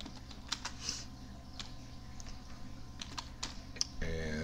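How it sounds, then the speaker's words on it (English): Typing on a computer keyboard produces soft, irregular key clicks at close range over a faint background hum, ending with a brief tonal burst. "You just want to type something."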